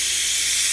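A leaking air nozzle on a compressed-air line, used on a 2018 GM truck's evap system, lets out a continuous loud, steady hiss through the whole brief moment.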